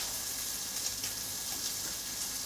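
Chopped pieces sizzle in a frying pan for a chicken and bacon omelette, a quiet, steady hiss with faint crackles and no voices.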